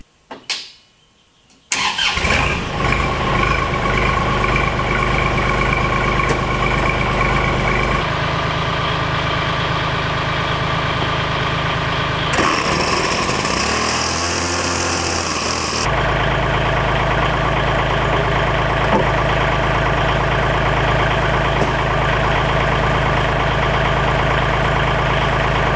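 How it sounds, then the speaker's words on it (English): A farm tractor's engine cranks over after a short quiet moment, catches and settles into a loud, steady idle that holds close by, its tone shifting slightly a couple of times as it runs. "I'm going to get this tractor started up for the day"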